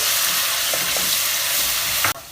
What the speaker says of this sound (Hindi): यहाँ मैंने लहसुन अदरक का पेस्ट लिया है, ये ऐड कर देंगे। और इसको भी ऑयल में करेंगे हल्का सा फ्राई।